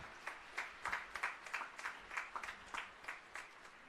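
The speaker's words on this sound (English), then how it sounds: "A big round of applause to Bhavya" Applause at a graduation ceremony, heard as faint, distant, sparse clapping with individual claps distinct in a loose, uneven rhythm, fading slightly toward the end and carrying no voices.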